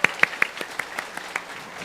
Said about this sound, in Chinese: 给他们掌声鼓励鼓励